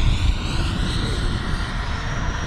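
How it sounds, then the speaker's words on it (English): A foam RC L-39 jet model on LiPo electric power sweeps past with its speed brake deployed, giving a steady, loud whooshing ducted-fan whine that holds for a couple of seconds without any talk over it. "I'm gonna drop the speed brake, Steve, just so people can see it coming by"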